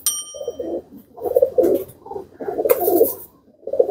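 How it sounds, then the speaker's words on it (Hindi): Pigeons coo in several soft, throaty bursts, close by and fairly loud, with a brief metallic clink near the start and a short bright rattle partway through. "ये कबूतर हैं,"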